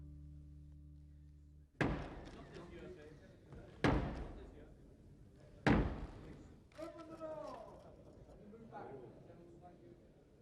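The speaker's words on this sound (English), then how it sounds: "The Commons close their doors to the Queen's messenger to show their independence." Heavy doors of the House of Commons slamming shut in Parliament, three loud, resonant thuds spaced about two seconds apart with reverberant echo, followed by a few softer knocks and a voice speaking afterward.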